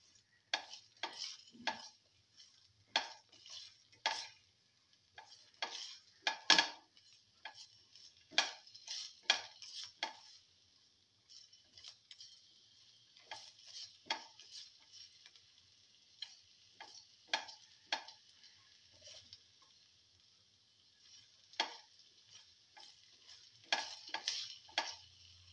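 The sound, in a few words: sauteing okra and potato in a pan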